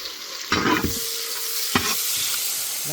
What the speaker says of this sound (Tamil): ஒரு நூற்றி ஐம்பது கிராம் அளவு பெரிய வெங்காயத்தை இந்த மாதிரி கட் பண்ணி வச்சுக்கிறோம் காட்டிலே போட்டுக்கிறா